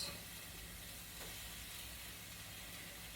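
Peppers and onions fry in a skillet beside potatoes, giving off a soft, continuous sizzle with a faint steady hiss and no pauses.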